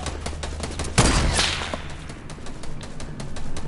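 Gunfire in a multiplayer video game, a sharp crack standing out near the start, then a string of quick, fainter shots and rattles over a noisy background.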